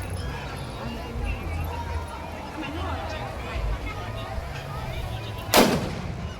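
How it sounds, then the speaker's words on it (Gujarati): A single sharp gun blast goes off as a welcome salute at a Swaminarayan religious procession, loud against a steady crowd hubbub with voices and some hoof-like clopping. "જો બંદૂક ફોડે છે ને સ્વાગતમાં"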